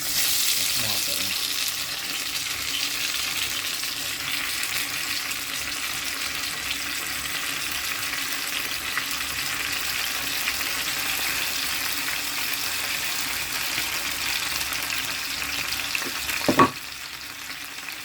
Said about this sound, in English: Let the oil heat it up a bit, and then I put the onion and the tomato in.